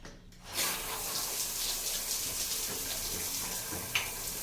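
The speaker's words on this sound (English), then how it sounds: "Let's test out this water pressure." Steady rush of water from a hotel bathroom's handheld shower head at good pressure, a continuous hiss starting abruptly and running throughout with a small splash near the end.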